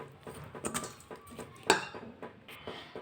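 A spoon mixes rava and semiya into buttermilk in a bowl, making close, repeated scraping and tapping strokes in a steady rhythm, with one sharper clink partway through and no one talking.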